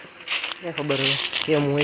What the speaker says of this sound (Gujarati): આ પાંદડાનો અવાજ આવે છે, નીચે પાંદડા પડ્યા